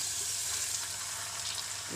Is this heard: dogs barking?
no